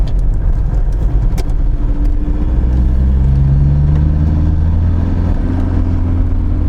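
Volkswagen Passat B3 engine droning loudly and steadily while the car drives, with a low rumble and shifting engine tones rising and falling in pitch.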